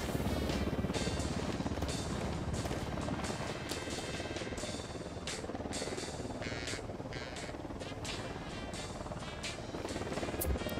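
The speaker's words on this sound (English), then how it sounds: "Helicopter, get down." A helicopter in the video game Ghost Recon Wildlands approaches, its steady loud rotor drone filling the whole stretch.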